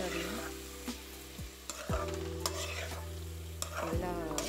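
Beaten egg stir-fried with vegetables for fried rice over a low flame: a steady sizzle sits under repeated loud scrapes of a spatula against the pan, about one stroke every second or two, with no voices.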